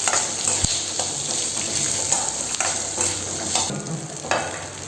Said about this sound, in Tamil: இப்போ இதெல்லாம் நல்லா கொஞ்சம் வதங்கி வரட்டும்.